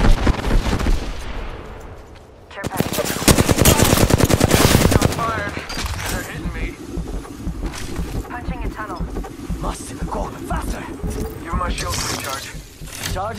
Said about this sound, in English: Shots fired. They're hitting me.